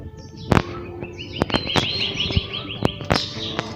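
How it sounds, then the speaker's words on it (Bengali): Birds chirp and twitter repeatedly, with several sharp knocking clicks scattered between the calls. "আপনারা কি পাখির ডাক শুনতে পাচ্ছেন"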